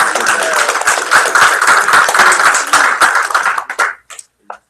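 A room of game studio students gives a round of applause, dense steady clapping for about three and a half seconds before it thins out into a few scattered last claps.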